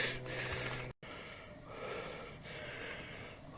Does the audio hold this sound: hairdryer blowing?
no